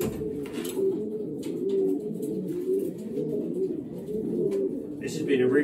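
Racing pigeons coo repeatedly in low, throaty rolling calls, several birds close by during basketing for a race, with faint clatter and a voice in the background.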